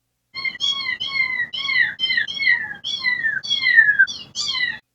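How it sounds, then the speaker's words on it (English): A series of cat meows, about ten in a row, each a rising-then-falling whiny call, close and clear with short pauses between them. "play all the meow pack samples"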